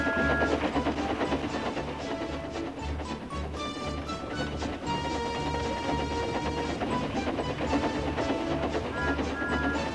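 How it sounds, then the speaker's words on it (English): A blue tank engine puffs along a branch line pulling two coaches, rhythmic chuffing and rolling rail clatter under a bright musical score, steady and fairly loud throughout. "he puffed happily along his branch line with Annie and Clarabel"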